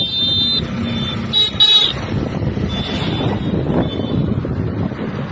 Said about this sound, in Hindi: हम स्कूटर से जा रहे हैं, देख लीजिए आप।